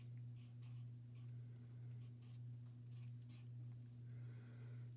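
Handwriting a word during a Montessori fractions lesson: several brief scratchy strokes of a pen or marker on paper, faint and close, over a steady low electrical hum with no talking.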